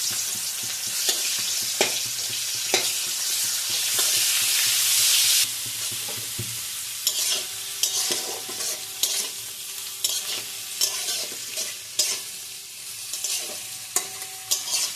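Chopped onion sizzling and being stirred in hot oil for Schezwan ball rice, a loud hiss easing after a few seconds into steady frying with repeated scraping stirs, no voices.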